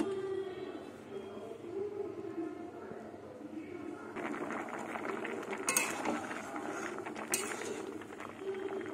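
A pot of mung dal with radish and pumpkin gets its lid put on, with clattering metal and clinking utensils at close range and a couple of sharp clanks near the end.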